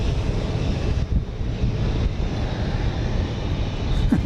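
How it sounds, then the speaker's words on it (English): An airliner takes off at Dallas Love Field, its engines a steady broad roar heavily buffeted by wind noise on the microphone, with no voices. "plane that had been scheduled to take off at 6:20 tonight"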